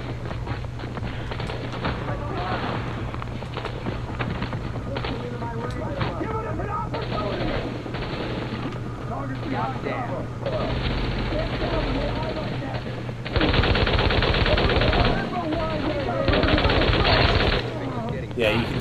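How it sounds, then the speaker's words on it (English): A machine gun fires in the video game The Division, with rapid bursts of gunfire over a steady game hum and louder sustained volleys near the end. "you can see this machine gun, how good it is already"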